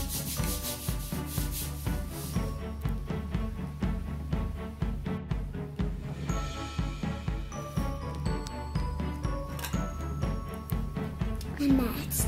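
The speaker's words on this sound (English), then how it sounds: "when I rub it on my hair" Styrofoam rubbed against hair in a home static electricity experiment gives a rhythmic scratchy rubbing, repeated in quick strokes throughout and mixed with background music and a voice.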